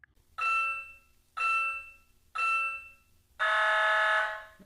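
An LED Tech interval timer sounds its start signal: three short, evenly spaced electronic beeps followed by a longer, louder tone, clear and close in a quiet room.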